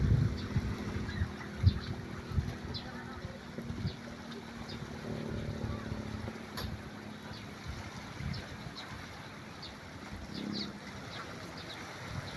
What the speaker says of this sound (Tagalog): medyo mahangin konti.